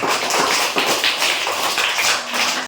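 An audience claps loudly for the winning teams at a school quiz event, a dense burst of close applause that runs throughout and stops abruptly.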